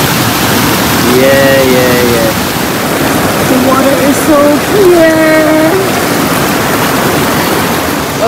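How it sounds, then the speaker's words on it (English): A mountain stream in Ladakh rushes in a loud, continuous broadband wash, close by, with faint voice-like tones briefly rising over the flowing water. "कभी कभी लाइफ में स्ट्रीम के साइड में आनंद लेना चाहिए."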